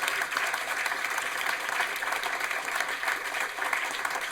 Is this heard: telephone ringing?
no